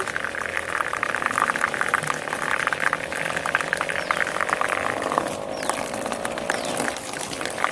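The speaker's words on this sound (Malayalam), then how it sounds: "ഈ പെട്ടിക്ക് അപ്പൊ നമ്മൾ പുതിയ വെള്ളം നിറക്കുകയാണ്" Steady rushing water filling a small homemade guppy tank, a continuous close hiss and splash that runs without pause from start to finish.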